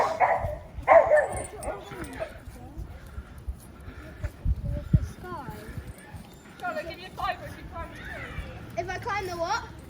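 Dogs bark on an outdoor family walk just before rain, with sharp, repeated barks and yips close by, scattered among children and adults talking.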